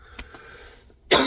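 One short, harsh dry cough bursts out near the end after a few faint throat sounds, close to the mic in a quiet space.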